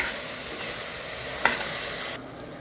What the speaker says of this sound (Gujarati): પાલક નાખીને હવે એને પણ બરાબર મિક્સ કરી લઈશું